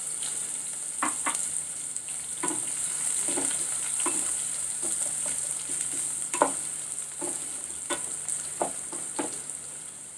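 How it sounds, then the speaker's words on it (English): Sliced onion added to browned cumin seeds in hot oil crackles and sizzles steadily up close, broken by repeated sharp scrapes and taps of a spoon stirring the pan, with no voices. "Once the jeera is nice and slightly brown, add the onions."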